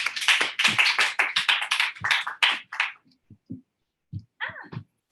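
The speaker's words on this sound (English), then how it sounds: "let's give her a round of applause" Applause from an audience honoring a new district manager at a company prep meeting, a burst of clapping that fades into a few scattered claps and brief voices.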